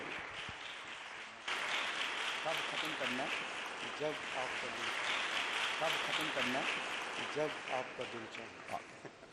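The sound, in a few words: audience applause welcoming a pastor to preach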